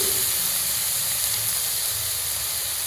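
Green chili and garlic paste frying in hot oil for a spinach dish, giving a steady, close, hissing sizzle that runs unbroken without any voices.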